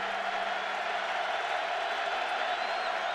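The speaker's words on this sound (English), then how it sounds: "Crowd urging on the black shirts" Steady, dense roar of a Nebraska stadium crowd cheering on the Blackshirts defense during a 2010 college football game against Idaho, a continuous wash of voices with no breaks, loud and unbroken throughout.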